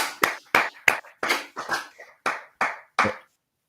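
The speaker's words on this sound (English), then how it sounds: "And now let's clap and celebrate." A group claps together during a meditation gathering, eight or nine sharp, evenly spaced claps in unison, close and clear against silence, then stopping.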